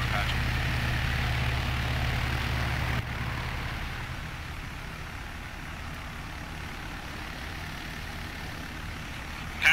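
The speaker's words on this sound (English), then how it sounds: "Patrick, get in the chopper" A military helicopter during a special forces operation drones with a heavy low rotor and engine rumble, loud and continuous, with voices shouting over it.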